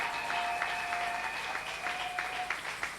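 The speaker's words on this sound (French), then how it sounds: "Acclamons très fort pour la parole de Dieu." A church congregation applauds during a prayer service, with brisk, dense clapping from many people at moderate distance, steady and sustained, with faint tonal sounds audible underneath.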